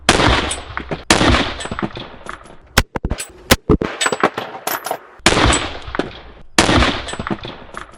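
Steyr StG-77 rifle fire during zeroing at a military range: sharp, loud single gunshots spaced irregularly, each with a decaying echo, plus a quick cluster of shots midway.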